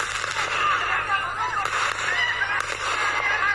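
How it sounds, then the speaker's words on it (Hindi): Diwali firecrackers and fountain fireworks burst and crackle in a dense, continuous barrage with scattered sharp pops, while people talk over the noise. "ज़बरदस्त आवाज़, खूबसूरत कई तो पटाखे और अनार ऊपर जाकर कई सारी आकृतियाँ भी बना देते हैं।"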